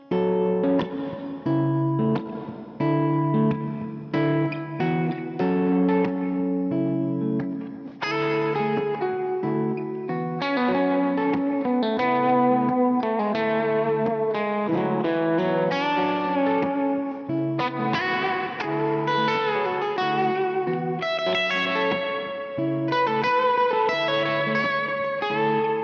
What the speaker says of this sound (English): Let's hear that bridge pickup all on its own.